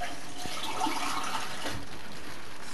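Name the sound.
water being poured into cooking pinakbet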